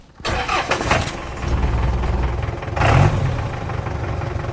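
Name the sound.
diesel engine idling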